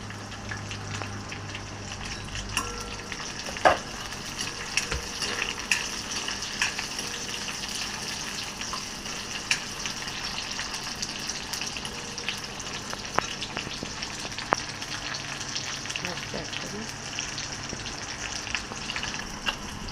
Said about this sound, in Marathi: कांदा टाकला जातो आहे.